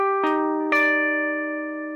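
Two sustained, ringing notes on electric guitar from a riff, each with a sharp pick attack and long even decay, clean and close with no other sound.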